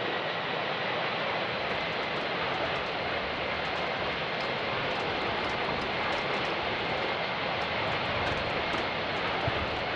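Airbus A320 jet engines roaring during takeoff in Real Flight Simulator, a steady, loud, broadband rumble that holds unchanged throughout with no voices.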